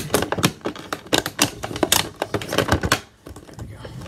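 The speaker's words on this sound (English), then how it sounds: "So I'll use my X-Acto knife and cut this out." An X-Acto knife slices and scrapes through a cardboard toy box, giving a quick, close series of sharp tapping and scratching cuts that stop near the end.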